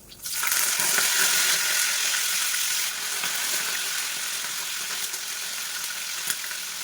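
Green chillies and curry leaves crackle and sizzle loudly in hot oil, a sharp burst at first that settles into steady frying.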